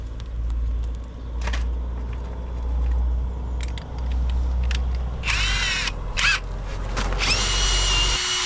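A power tool grinds steadily on a boat prop shaft, a constant loud motor drone with brief higher-pitched whining bursts toward the end.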